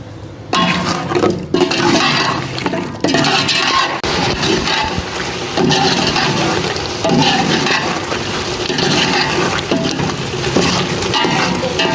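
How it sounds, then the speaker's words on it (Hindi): Chicken and potatoes with bay leaves and spices fry loudly in a pot while being stirred for a pulao, giving a continuous close sizzle broken by scraping and clattering stir strokes. "10 मिनट भुनाई करेंगे चिकन और पोटैटो की।"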